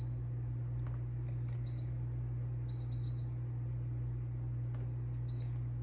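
Beeps from an air fryer's control panel as it is set for ten minutes, short high electronic tones in small clusters over a steady low hum.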